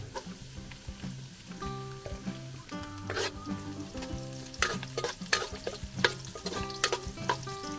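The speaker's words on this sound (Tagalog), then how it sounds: "Tapos, pag mabango ng luya, lalagay ang bawang." Ginger and garlic fry in a pan over a farm-style cooking fire, giving a soft, steady sizzle with occasional sharper crackles and stirring scrapes, heard fairly quietly over a faint tonal background hum.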